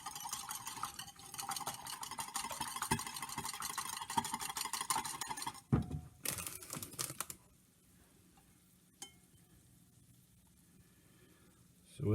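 Eggs and cream beaten by hand in a bowl for an egg bake: a rapid, steady, close rhythmic clatter for about six seconds, then a short knock and near quiet.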